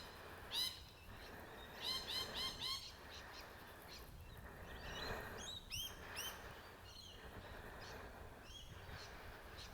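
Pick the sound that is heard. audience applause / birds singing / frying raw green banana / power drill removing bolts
birds singing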